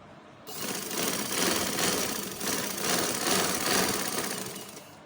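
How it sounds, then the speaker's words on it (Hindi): A sewing machine runs steadily for several seconds, stitching piping onto shirt fabric. Its close, continuous whirring rises and falls slightly as it goes, with no talking. "अब मैं ये पूरी पाइपिंग जो है वो कंप्लीट कर लूँगी।"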